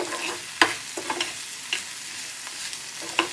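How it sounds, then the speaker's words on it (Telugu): Chopped small tomato fries in a pan for perugu pulusu, a steady hissing sizzle close by, punctuated by sharp spoon clicks against the pan as it is stirred. "ఇప్పుడు చిన్న సైజు టొమాటో ఒకటి కట్ చేసి ఇందులో వేసానండి"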